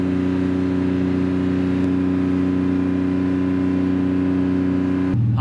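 A petrol engine holds a steady, loud exhaust drone at high revs during an exhaust noise test, then cuts abruptly near the end.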